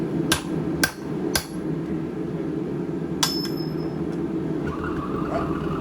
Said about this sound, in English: give it a couple of whacks on that side